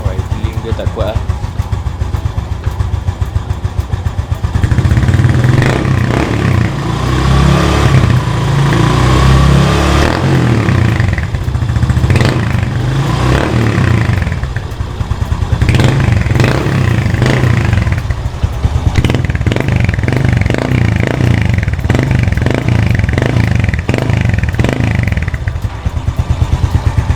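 Yamaha Lagenda 115ZR motorcycle fitted with an original Apido cutting exhaust, silencer removed, idling and revving with a steady mid-low engine drone and repeated throttle blips, loud and close, with people talking over it.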